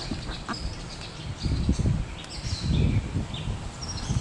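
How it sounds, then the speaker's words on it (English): Birds call in a forested area of Johnson County, Indiana, with scattered high chirps above lower, throaty quacking or honking bursts that come and go at moderate distance. "with a lot of birds doing a lot of singing"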